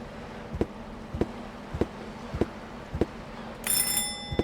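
Doorbell in the point-and-click adventure game Chaos on Deponia, heard as a series of evenly spaced sharp bell-like clicks, followed by a bright sustained electronic ring near the end.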